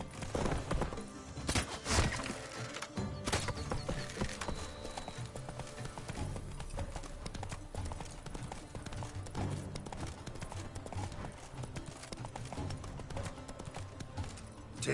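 Roach the horse galloping in The Witcher 3 video game, a steady, rapid clip-clop of hooves running continuously and loud throughout, with a brief heavier patch near the start.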